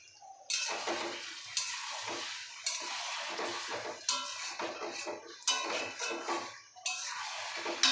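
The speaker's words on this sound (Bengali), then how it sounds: "এরকম করেই কিন্তু আমরা জল দিয়ে দিয়ে মাংসটাকে পুরো কষিয়ে নেব" Mutton kosha being stirred and fried in a wok, with a spatula scraping and clattering against the metal in loud repeated bursts about every second, and no talking.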